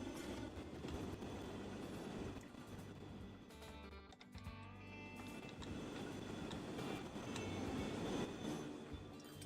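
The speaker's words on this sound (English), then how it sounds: "now that gets trains moving, we're going to let the trains move" Trains rumble and clatter along railway tracks in a transport simulation game, a steady, faint rolling noise with occasional wheel squeal.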